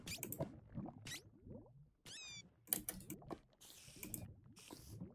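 Several short cat meows in Minecraft as the cat is in water, mixed with splashy effects, chirps and clicky game noises over a steady background.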